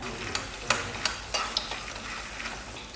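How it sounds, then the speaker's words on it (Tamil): Tamarind curry (vatha kuzhambu) with jaggery boiling in a pan with a steady bubbling sizzle and several sharp clinks of a spoon stirring against the pan, close up. "வெல்லம் போட்டதுக்கப்புறம் இது இன்னும் ஒரு 2 நிமிஷம் நல்லா கொதிக்கட்டும்"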